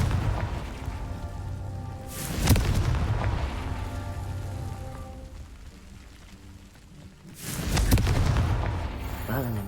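A Confringo fire spell in Hogwarts Legacy, two heavy booming blasts several seconds apart with a rumbling tail, over a low game backdrop.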